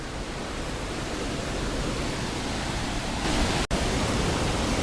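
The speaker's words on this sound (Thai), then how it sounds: "นี่ก็คือบริเวณน้ำตกตาเสือนะครับ" Tad Suea waterfall in southern Laos, seen from its upper tiers, roars as a steady broadband rush of falling water, loud and continuous with no voices.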